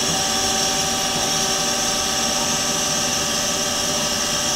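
Horizontal bandsaw in automatic mode running a full cycle, a steady high-pitched mechanical whine and buzzing hum with constant loudness and no pauses, heard alone without talk.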